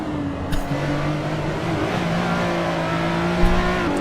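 A pace car's engine in a racing sim video game holds a steady drone with shifting pitch, fairly loud and alone, with a couple of brief sharper bursts.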